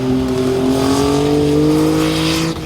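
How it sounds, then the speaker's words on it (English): A 1970 Sunbeam Rapier fitted with a turbocharged V6 revs hard and holds a loud, steady engine roar, its pitch climbing slowly before dropping off at the end. "a Sunbeam 1970 Sunbeam Rapier. Got a turbocharged V6 in there"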